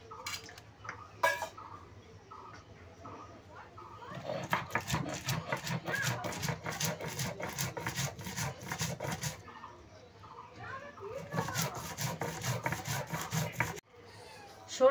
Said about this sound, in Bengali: পোস্ত আর সর্ষে একসঙ্গে বেটে নেব